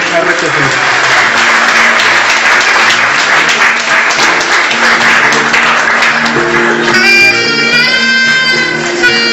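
An audience applauds at a diploma ceremony as a graduate is called up to collect documents, steady loud clapping throughout with background music and tones rising near the end.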